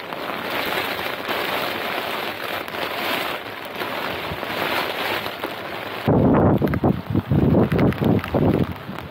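Steady rain hisses over blustery wind beside a narrowboat, then heavy gusts buffet the microphone in loud, rough thumps toward the end.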